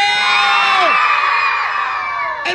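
An audience at a clown show shouts and whoops loudly, trying to win a gift; a sustained, dense crowd roar of cheering and yelling, with children's voices mixed in, fills the whole stretch close and loud.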